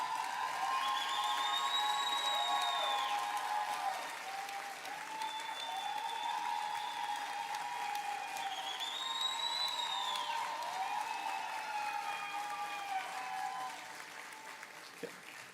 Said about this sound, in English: He's obviously a very popular dean, and he will be sorely missed, as is obvious from your cheering.